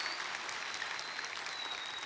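Broad, even clapping from a church congregation at a Sunday service, applauding the Busan mayor, holds steady through the short stretch without voices.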